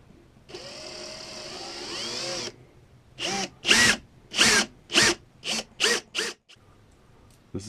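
A power drill with a Forstner bit runs steadily for about two seconds, then bores in a series of short, loud bursts as the bit cuts into wood, close by.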